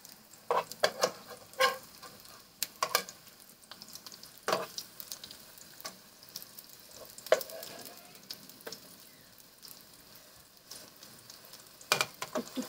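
Eggplant and jute leaf fritters fry in hot oil while they are turned over: a continuous sizzle, broken by sharp clinks and scrapes of the spatula against the pan, close and with no voices.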